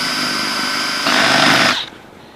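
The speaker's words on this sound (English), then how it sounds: "So we use a 5/16 drill bit in order to pull that off." A power drill with a 5/16 bit runs at a steady high whine, grows louder and rougher as it bites into the workpiece, then spins down and stops.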